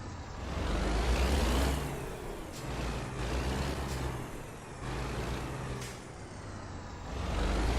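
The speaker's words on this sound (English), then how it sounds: "I can hear that beastly Cummins." A dually pickup with a Cummins diesel engine rumbles steadily in the low end, with a swelling, revving drone that rises near the start and end and a faint hiss of air on top.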